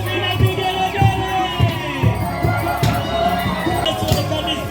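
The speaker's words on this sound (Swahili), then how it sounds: "Makofi na vigelegele." A church congregation at a Catholic Mass for the feast of the Body and Blood of Christ, loud and continuous, with rhythmic clapping throughout and bright shrill ululation rising over the crowd.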